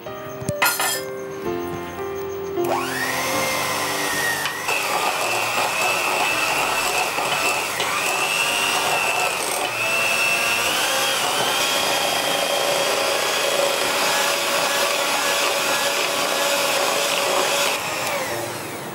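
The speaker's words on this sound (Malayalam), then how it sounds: "ഇതൊന്ന് നന്നായിട്ട് ബീറ്റ് ചെയ്യാം." An electric beater whips frozen whipped cream in a bowl, starting with a few clinks and then running as a loud, steady whine that holds for most of the time.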